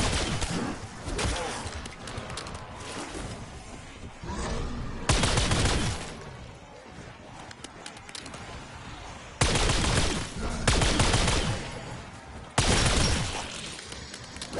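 A video-game gun blasts away at zombies in repeated loud bursts, some sharp and shattering, separated by quieter stretches of lighter firing and game noise.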